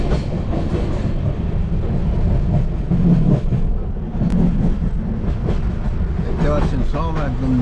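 A brand-new passenger train with new seats runs toward Darjeeling, giving a loud, continuous rumble and rattle inside the carriage, with people talking near the end.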